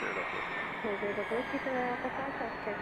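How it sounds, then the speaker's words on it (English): A Cessna Citation business jet taxis out for departure at Scottsdale, its engines giving a steady, even whine throughout, with a voice talking over the noise. "So this Cessna Citation right here is taxiing out for departure"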